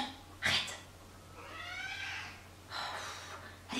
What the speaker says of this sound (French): ce chat est tout le temps en train de râler